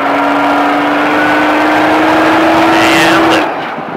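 An exotic car on the Speed Vegas track accelerates hard, its engine a loud, close, steady rising drone that cuts off abruptly as the throttle lifts near the end.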